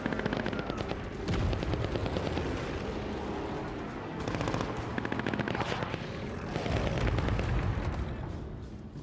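A bombing run in the strategy game Civilization 7: a continuous rumble of rapid gunfire and layered explosions, loud and dense throughout without any talk.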